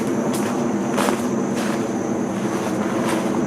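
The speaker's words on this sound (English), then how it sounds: "an airplane flies over" A steady broadband rumble of an airplane passing overhead outdoors, continuous and fairly loud, with faint handling bumps and no speech.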